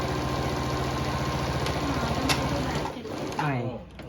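A Stitch Queen sewing machine sews an ordinary straight stitch with backstitching, a fast steady mechanical whirr close by that slows and stops near the end.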